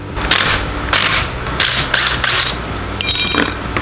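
Ratchet wrench tightening Loctite-coated 8mm bolts on a Predator 420cc high-torque engine, in several short bursts of rapid clicking with brief pauses between, close and fairly loud with no talk.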